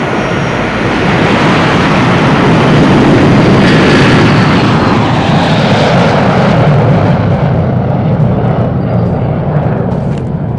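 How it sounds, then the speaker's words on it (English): A World War II-era German aircraft takes off in the video game Return to Castle Wolfenstein, a loud sustained engine roar that swells and then slowly fades. "Let's watch as this aircraft takes off to this beautiful sunset."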